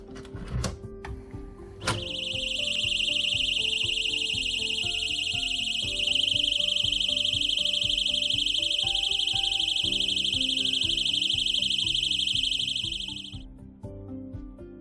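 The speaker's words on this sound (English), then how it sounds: "Door stopper security tool alarm 120 decibels traveling hotel home apartment door" A 120 dB door stopper security alarm shrieks with a loud, continuous high-pitched tone that holds steady for about eleven seconds before cutting off, with faint handling noise before and after.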